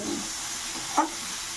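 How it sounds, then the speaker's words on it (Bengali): Soaked chickpeas fry in a pan with a faint, steady sizzle and a single brief stirring scrape partway through. "আজকে আমাদের ছোলা ভাজা আছে ছোলা ভাজা"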